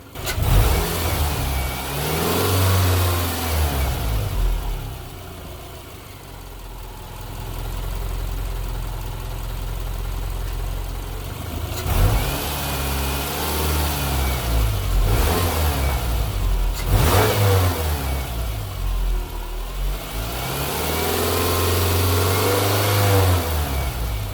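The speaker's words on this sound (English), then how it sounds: "revving it a bit in neutral and park can help with sucking some of that fluid down" 2008 Subaru Impreza engine revved in neutral during a transmission fluid service, rising and falling through several throttle blips over a steady idle, loud and close with no talking.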